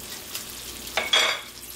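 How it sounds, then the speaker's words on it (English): Curry chicken sizzles and fries in a pot as a spoon gives it a quick stir, a steady close hiss with a couple of sharper scraping swirls near the end. "Just going to hit it one more quick stir"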